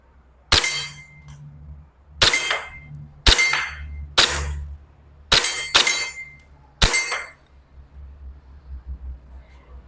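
A Bell Glock 17 Gen3 BB pistol fires seven sharp, loud cracks at a 10 m range, spaced about a second apart with one quick double, and each shot rings off briefly in quiet surroundings.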